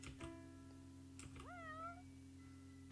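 A single cat meow rises and falls in the Fausts Alptraum video game, heard faintly over a steady background hum with a few soft ticks.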